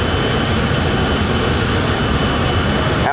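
A rocket truck's jet turbine engine at a high school drag racing event roars loud and steady, a dense continuous broadband rush that holds without letup.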